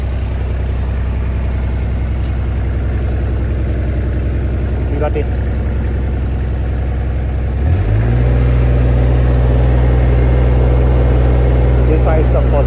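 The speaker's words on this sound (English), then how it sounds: "Okay, start the engine." A JCB 8018 mini excavator, being checked for a two-speed travel fault, idles loudly nearby; partway through its engine note jumps to a steadier, deeper running hum as the machine is started up or revved, while someone speaks briefly.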